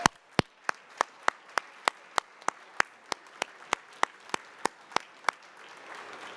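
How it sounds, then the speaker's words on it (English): Clapping at an aviation company event, heard as a sparse, evenly spaced series of sharp individual claps close by, roughly three per second, over a faint background hum. "a big clap for this entire Ohio delegation"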